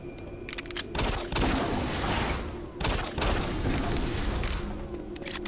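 Rapid gunfire rattles in two dense bursts in Doom 3, shooting at explosive barrels, loud and close with heavy thumping blasts and a brief pause between volleys.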